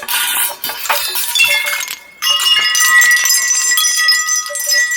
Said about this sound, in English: I love chimes, so I have a bit of a chime collection going on here.